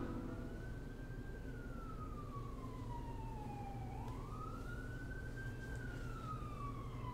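Police siren in Final Fantasy XII, one long steady wail that slowly falls and then rises again, loud and continuous over a dense background of game sound, with no talking.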